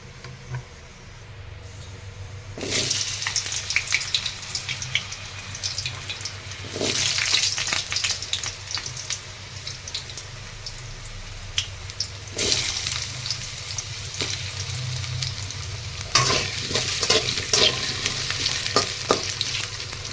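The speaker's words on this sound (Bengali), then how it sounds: "এবার আমি আলুগুলোকে ভেজে নেব" Potatoes frying in hot oil for a potol chingri dish, a dense crackling sizzle that surges in several loud bursts as the pieces are stirred and turned, easing between them.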